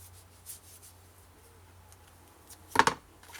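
Double-sided adhesive tape being handled for a scrapbook album, with quiet faint rustles and then a brief crisp tearing rasp near the end, close up.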